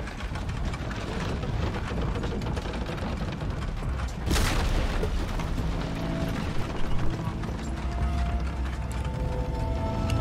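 In Shadow of the Tomb Raider, a cannon on a cart is pushed through a cavern, giving a steady grinding, ratcheting mechanical rumble with creaks, a brief louder scrape midway and some wooden clunks near the end.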